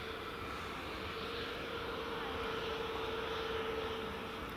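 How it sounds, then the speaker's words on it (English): A Ryanair airliner hurries along the taxiway at Edinburgh Airport, its jet engines giving a steady, loud roar with a sustained whine that holds from start to finish. "this other Ryanair's bombing it down the taxiway"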